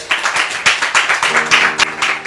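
Live audience applauding a guest arriving on stage at a French-speaking show, a few hands clapping in uneven bursts, fairly close and moderately loud, with faint voices underneath.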